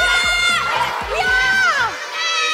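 Children cheer and shout excitedly in a lively group during a kids' sports strength challenge, voices rising and falling in loud bursts over a steady crowd roar, with thumping footfalls and no clear applause.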